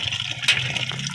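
Tap water runs over tomatoes being washed, a short steady splashing stream heard close up.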